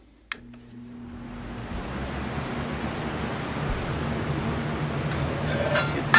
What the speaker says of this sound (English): Turn the fan on.